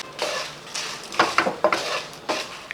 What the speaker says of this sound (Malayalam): ഈ മുളക് നമുക്ക് ഈ പാൻ്റെ അകത്തോട്ട് തന്നെ അല്പസമയം ഒന്ന് ഇളക്കി കൊടുത്തൊന്ന് വറുത്തെടുക്കണം